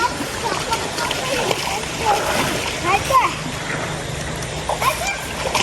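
Irregular water splashing and trickling as people bathe in cold stream water outdoors, soft and continuous beneath frequent chatter from voices nearby.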